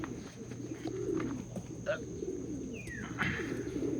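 Pigeons coo softly nearby in low, rolling calls, with a brief chirp and faint background noise around them.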